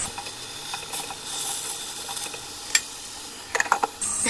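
Meat cutlets fry in a pan, a soft steady sizzle broken by occasional clicks and a cluster of sharper taps near the end as they are turned, with no talking.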